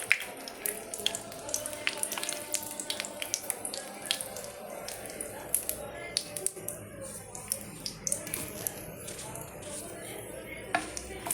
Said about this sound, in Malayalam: വറ്റൽ നമുക്കൊന്ന് വറുത്തെടുക്കാം